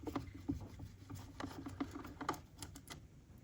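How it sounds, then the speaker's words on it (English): A Phillips screwdriver loosens the ground terminal screw for a winch on a 2025 RAM truck, making faint, close scraping clicks and rasps in short, uneven bursts. "So Phillips screwdriver, loosen that off"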